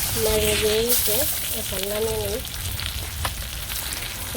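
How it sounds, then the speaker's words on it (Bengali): Oil sizzles in a pan while fish and brinjal fry in a village kitchen, a steady hiss running under the whole clip, with a brief wavering tonal sound near the start. "মাছ তেল রয়েছে মাছ ভাজার তেলের মধ্যে"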